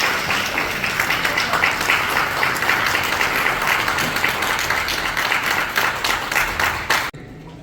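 Sustained audience applause at a ceremony honouring a member of parliament, a dense clapping crowd filling the hall without pause before cutting off abruptly near the end.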